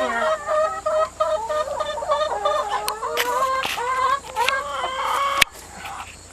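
Backyard broiler chickens cluck and crow in a steady, overlapping chatter close by, with a few sharp clicks and bumps as a bird is handled; no talk is heard.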